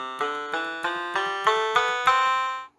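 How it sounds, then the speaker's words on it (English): A VOGURTIME DIY soldered electronic piano kit set to its mandolin voice plucks six evenly spaced notes, each with a sharp attack and decay, up close and alone, the last one fading out. "mandolin,"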